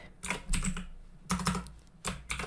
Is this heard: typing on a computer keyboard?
yes